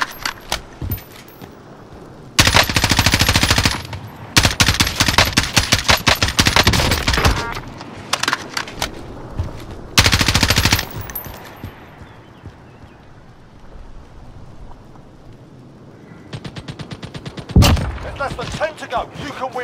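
Automatic gunfire bursts from a shooter video game set on Rebirth Island, several loud sustained volleys separated by short pauses, with a final rattling burst near the end and game voice callouts in between.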